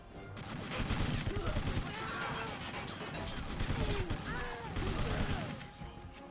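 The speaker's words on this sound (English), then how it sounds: "I don't even know where people are shooting at me from" Gunfire in 007: Everything or Nothing, the 2004 PS2 James Bond shooter: quiet, continuous bursts of shots and impacts blend with game noise, and a voice talks over them.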